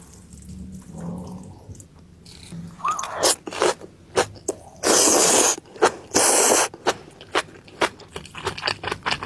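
Crunchy bites and chewing of spicy mukbang food that was soaked in ice water for extra crispness, with several loud crunch bursts in quick irregular succession, close up and without talk.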